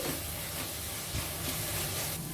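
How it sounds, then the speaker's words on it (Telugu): Spice masala for paneer biryani fries in a pan with a soft, steady sizzle and faint stirring bumps, quiet and close. "ఇప్పుడు ఇదంతా ఇలా కలుపుకొని ఒక రెండు నిమిషాలు ఫ్రై చేసేసుకోవాలి"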